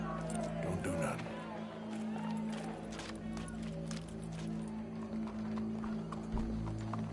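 Horse hooves clip-clopping in Red Dead Redemption 2, a steady rhythmic trot close by, mixed with game ambience and voices speaking over it.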